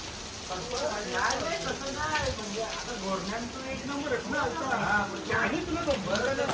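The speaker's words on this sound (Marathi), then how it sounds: "पाऊस भरपूर पडतो, छत्री घेऊन आहे" Heavy rain pours steadily near a hilltop temple at Ekvira, a continuous patter on surfaces throughout while people talk over it.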